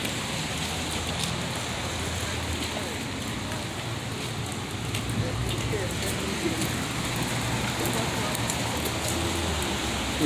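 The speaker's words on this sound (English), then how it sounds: "It's raining." Outdoor rain falls in a steady, close hiss that never lets up, with a low rumble of passing traffic underneath and faint voices in the background.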